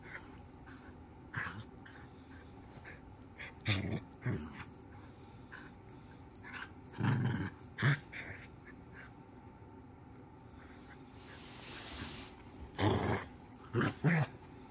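A puppy growls and whimpers in short, scattered bursts of low grumbling and small whines, with quiet gaps between them, close by and indoors.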